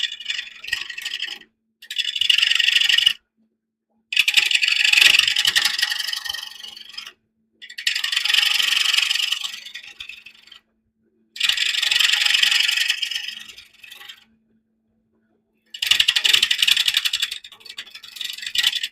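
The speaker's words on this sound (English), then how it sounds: "let's stay sharp here with the new chisel" Chisel cutting into a large wooden bowl, heard as loud, rasping scraping strokes in long bursts of two to four seconds, separated by brief pauses, with no talking.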